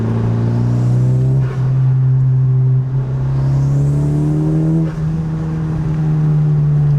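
A 10th gen Honda Civic Si with a 27WON turbo inlet pipe drones loudly under load, a strong steady engine tone rising slightly in pitch as boost builds, with a faint turbo whoosh over it and no talking.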